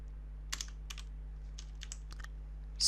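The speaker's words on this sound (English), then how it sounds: "just type it in the exact same way I'm typing it" Quiet, scattered keystrokes tap on a computer keyboard in short irregular bursts against a steady low electrical hum.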